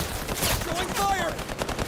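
Gunfire in the shooter game Highguard, a rapid burst of shots close by over game noise, with a voice speaking over it.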